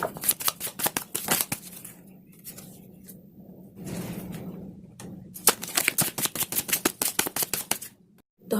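Tarot cards are shuffled close up in rapid, crisp riffling bursts, separated by a softer, quieter pause, then more quick flicking card taps.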